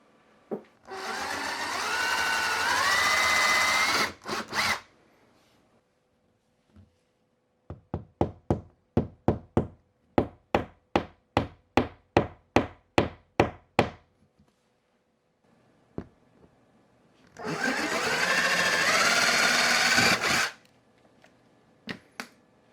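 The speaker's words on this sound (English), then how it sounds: "I'm going to put an anchor in and set an anchor in this side." Wall anchor being set while mounting a hanging corner bass trap: a rapid series of about twenty sharp, close taps in a steady rhythm, between two longer bursts of whirring drill noise.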